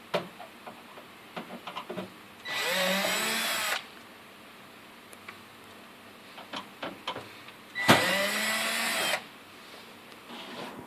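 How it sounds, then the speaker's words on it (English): A powered screwdriver with a Phillips bit whirs in two sustained bursts of about a second each while removing screws from a Sorrento vending machine's condenser cover, close, with light clicks and handling between runs. "You do this by undoing the 8 screws using a Phillips head screwdriver."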